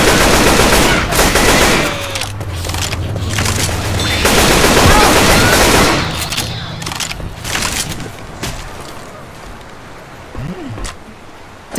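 Explosive-round gunfire in the video game Left 4 Dead 2: dense, loud bursts of rapid shots and blasts, thinning out toward the end, with some voices under it.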